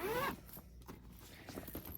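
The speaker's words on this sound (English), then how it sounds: "So the zipper panel looks good." A zipper on a sewn tote bag is pulled in one quick rasp at the start, followed by quiet handling.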